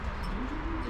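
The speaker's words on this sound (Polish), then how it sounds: "Co to za gołębie leci?" Soft, low cooing of racing pigeons carries steadily through the clip at a pigeon loft, with outdoor ambience and no talking.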